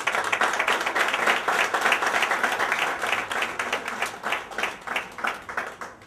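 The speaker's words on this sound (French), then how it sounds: "Applaudissez, applaudissez." A church congregation applauds at a pastor's ordination service, dense steady clapping from many hands that swells and then gradually thins toward the end.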